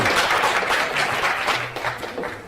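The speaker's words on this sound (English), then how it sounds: "Applaud for cuddling." An audience at a full-length speech event applauds, a steady wash of many hands clapping at once that stays loud and then eases slightly near the end.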